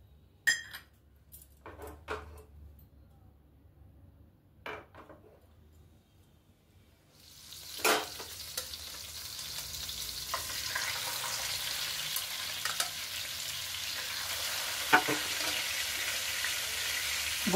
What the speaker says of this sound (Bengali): এবার গরম হয়ে গেছে, তেলটা দিয়ে দিলাম।